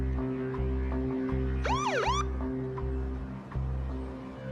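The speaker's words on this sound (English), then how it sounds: "I hit the siren to try and get her attention." A police car siren gives a short wailing burst of rising and falling sweeps over a steady low engine hum, loud and close, lasting about half a second before cutting off.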